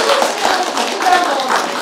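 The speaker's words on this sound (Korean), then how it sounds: "점점 박수 소리가 줄어드는데요." Audience applause after a Korean independent film screening Q&A, a brisk patter of many hands at moderate loudness, easing off and thinning toward the end with a faint voice mixed in.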